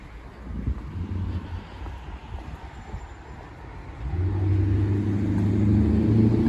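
A car passes along Pape Avenue in Toronto on a light-rain day, its low engine rumble swelling and growing louder through the second half over steady street noise and wind buffeting.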